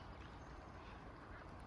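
Several farmyard ducks, muddy and out of their coop in cold weather, quack in a steady, close jumble with no pauses, the calls dense and continuous throughout.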